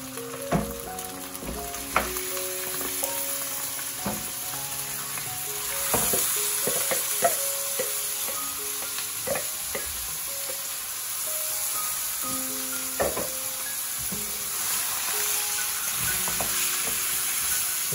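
Marinated beef sizzles and fries in a wok for Bangladeshi beef bhuna, a steady close crackle broken by repeated clinks and scrapes of stirring throughout.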